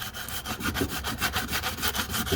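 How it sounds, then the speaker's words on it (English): Rhythmic back-and-forth abrasive scraping of 80-grit sandpaper smoothing glaze putty on a damaged wheel, steady strokes about five per second, close and fairly loud with no talking. "Now I'm using an 80 grit sandpaper just to get it nice and smooth"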